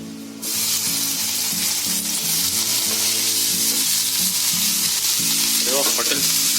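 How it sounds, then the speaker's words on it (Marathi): Paneer sizzles and fries in hot ghee, a loud continuous crackle with stirring scrapes throughout and no talk. "याच्यामध्ये आपल्याला पनीर फ्राय करून घ्यायचं या घी मध्ये"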